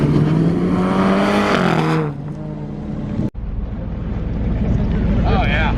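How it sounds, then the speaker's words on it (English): A Jeep Trackhawk with a Hellcat engine runs an autocross course, its engine roaring loudly and pitching down as it lets off, then building again, with people talking over it. "So this right here is the Jeep Trackhawk."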